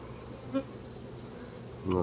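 Honey bees buzzing on a frame pulled from a single-box hive during a varroa mite check, a soft, steady, faint hum throughout with a couple of brief louder flickers.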